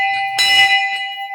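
A metal temple bell in a shrine struck once, a sharp, loud clang that rings on with a steady, sustained tone, close by with no voices.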